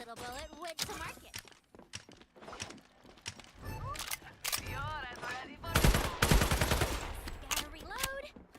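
Gunfire in the video game FragPunk comes as a dense burst of rapid shots near the middle, amid scattered game effects, with a person talking in between.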